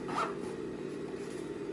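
A zipper on a sewn fabric pouch gets a quick slide, one short raspy zip at the start followed by quiet rubbing, close and soft.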